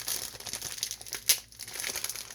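Quiet, close crinkling of plastic wrapping as it is slowly peeled off, with a sharper crackle partway through and no talking.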